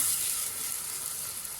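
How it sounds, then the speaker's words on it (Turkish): Half a tea glass of oil frying a medium onion for Erzincan tarhana soup gives a steady, close, bright sizzle with no pauses. "yarım çay bardağı sıvı yağ ve bir orta boy soğanı pembeleşene kadar kavuracağız"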